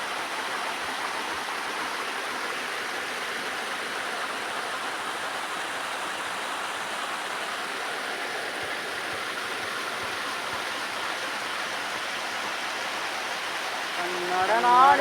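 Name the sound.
forest stream water flowing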